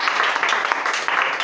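A church congregation applauding at an Easter service, a dense steady patter of many hands clapping together, moderately loud and continuous throughout.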